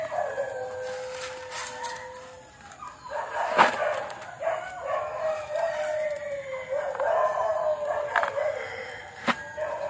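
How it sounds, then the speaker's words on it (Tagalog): Dogs bark and howl in a rural outdoor setting, with drawn-out tonal howls and sharp barks overlapping at moderate distance, plus a rooster-like crow among them. "Ingay ng mga aso."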